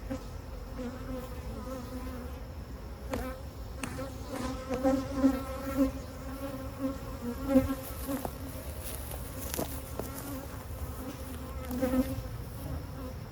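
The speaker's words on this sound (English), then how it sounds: "I got gray bees on here, yellow bees on here, black bees on here." Honeybees from newly installed hives buzz continuously during a mid-June inspection, a steady close drone with individual bees swelling louder as they pass near, with no talking.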